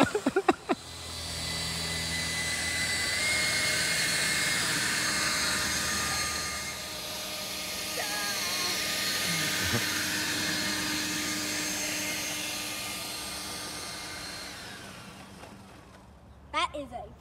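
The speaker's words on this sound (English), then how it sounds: "it's just a leaf blower and skateboard with bungee cords" A DeWalt leaf blower strapped with bungee cords to a skateboard as a jet drive roars steadily and loudly for most of the stretch, with clicks and handling noises at the start and end.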